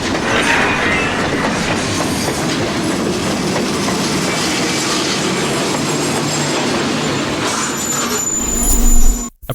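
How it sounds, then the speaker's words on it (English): Loud rumbling of a Brightline train rushing past with clattering wheels, ending in a sharp metallic crunch and squeal as it strikes an empty school bus at a railroad crossing. "a train destroying an empty school bus"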